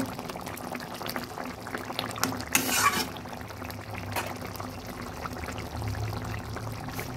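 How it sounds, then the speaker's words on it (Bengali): A fish curry with coriander leaves and slit green chillies simmering in a pan gives a steady bubbling and frying hiss, with a brief louder stir partway through and no talk. "আর একটু ফুটতে দেব।"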